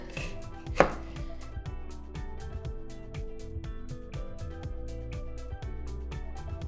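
Shadow benny (culantro) being chopped on a cutting board with a knife, a steady run of crisp, rapid taps that begin with one sharp louder knock and then keep an even rhythm close to the mic, with no talking.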